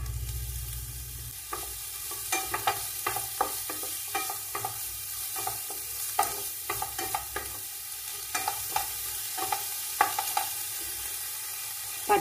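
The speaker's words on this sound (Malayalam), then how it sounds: "നെയ്യ് ചൂടായി, അതിലേക്ക് സവാള ചേർക്കാം." Onions frying in about a teaspoon of hot ghee, a steady close sizzle with a low rumble at first, then repeated short scraping stirs of a spatula in the pan throughout, no voices.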